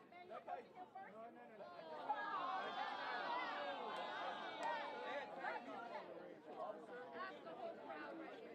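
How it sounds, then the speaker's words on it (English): A crowd of people at a college football game chatters close by, with several voices overlapping in a steady babble for the whole stretch. "That's the whole crowd right here."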